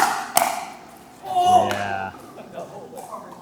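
Pickleball shots hit with paddles during a rally in a pro recreational game, a crisp pop early on and then a couple of more muffled hits, with a person talking over them.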